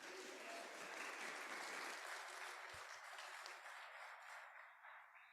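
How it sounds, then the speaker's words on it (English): An audience at a justice summit panel discussion applauds the panelists, a steady, fairly distant round of clapping at low volume that gradually fades away. "Give them a round of applause."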